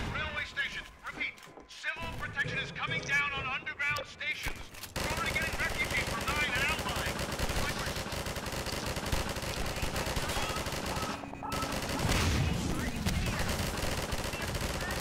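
Dense, rapid gunfire from the co-op shooter Half-Life 2 Synergy runs as a steady, loud barrage for most of the stretch, with players talking over it.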